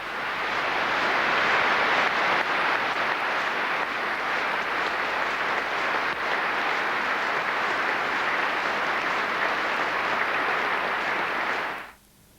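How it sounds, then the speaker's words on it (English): Sustained applause from a large crowd fills the reverberant space of Westminster Abbey, steady and broad for about twelve seconds before stopping abruptly. "applause slowly swelled around Westminster Abbey"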